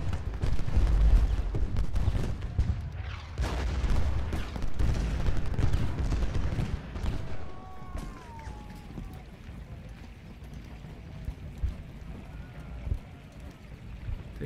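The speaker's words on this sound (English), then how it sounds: "The artillery is the only chance we have here." Artillery fire in the Civil War strategy game Ultimate General Gettysburg, at Benner's Hill on the third day: dense booming cannon and musket volleys roll together for several seconds, then thin to scattered distant shots over a quieter battlefield ambience.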